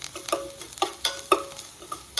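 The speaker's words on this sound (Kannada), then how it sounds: "ನೋಡಿ, ಬ್ರೌನ್ ಆಗಿದೆ ಈರುಳ್ಳಿ. ಈ ಥರ ಚೆನ್ನಾಗಿ ಹುರ್ಕೋಬೇಕು." Onions browning in oil in a pan, with rhythmic stirring scrapes and clinks over a steady close sizzle, a few sharp strokes at intervals and no voices.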